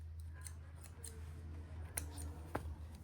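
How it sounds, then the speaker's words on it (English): Scissors trim threads while sewing a fabric pouch, giving about four quiet, close snips spaced irregularly over a faint background hum. "Trim threads."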